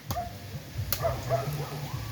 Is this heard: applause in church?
no